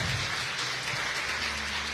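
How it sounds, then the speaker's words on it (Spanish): Congregation applauding together during a church service, a steady wash of clapping that stays fairly loud and even from start to finish, with faint voices underneath. "démosle un fuerte aplauso al Espíritu Santo"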